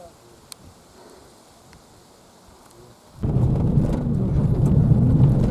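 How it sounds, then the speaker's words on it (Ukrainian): Rain starts in the countryside, a steady rush of falling rain that swells abruptly after a quiet stretch and then holds as a dense patter, with faint insects or ambience before it. "Дощ пішов."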